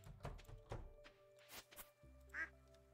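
Soft duck quacks from the video game Stardew Valley, a few short calls mixed with light thunks and footsteps, quiet and sparse.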